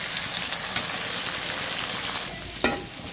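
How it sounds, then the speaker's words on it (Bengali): Prawns frying in hot oil give a loud, steady, close sizzle with occasional stirring scrapes and a sharp clack near the end. "এখন দিয়ে দেবো চিংড়ি মাছটা আমি একটু তেলে ভেজে নিব।"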